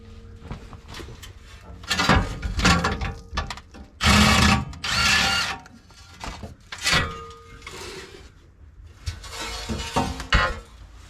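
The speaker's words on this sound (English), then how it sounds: "I'm gonna remove those to get this plate out of the way" Ratcheting socket wrench with a 13 mm socket loosening the plate bolts on a Ford Explorer transfer case, close bursts of clicking and rattling metal in irregular spurts with short gaps between.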